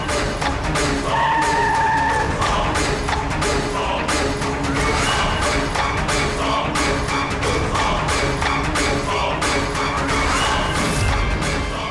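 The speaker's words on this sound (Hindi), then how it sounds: "गाड़ी रोको, साइड में लगाओ।" A car skids hard on a road during a tense chase, its tires scraping loudly over continuous dense noise from the vehicle and background for most of the stretch, with a brief sliding sound near the end.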